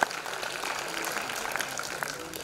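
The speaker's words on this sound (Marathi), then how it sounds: "एकदा जोरदार टाळ्या होऊन जाऊ दे या सर्व ज्येष्ठांसाठी" An audience claps steadily for senior citizens at a municipal seniors' festival in Kalyan Dombivli, a continuous close patter of many hands that stays even and moderate throughout.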